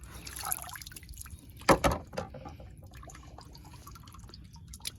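Water drips and splashes briefly as a wet filter is pulled from a Heritage Spa hot tub, a close burst of trickling around the middle, then quiet dripping against a low background.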